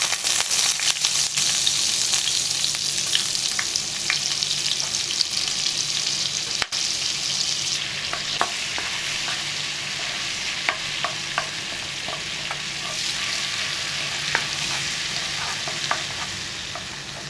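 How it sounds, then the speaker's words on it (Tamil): Butter melts into hot oil left over from frying paneer, giving a loud, continuous close-up sizzle that settles slightly partway through, with scattered small pops and crackles. "பன்னீர் பொரிச்சு எடுத்த எண்ணெயிலே கொஞ்சம் பட்டர் சேர்த்துக்கணும்"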